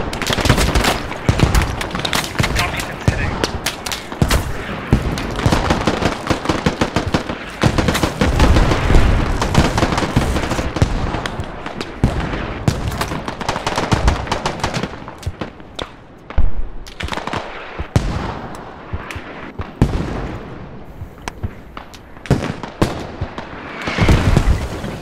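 A steady barrage in the military game Squad, Middle East Escalation mod, with mortar and artillery fire: dense, loud, overlapping booms and rapid gunfire that roll almost without pause, with brief gaps near the middle and end.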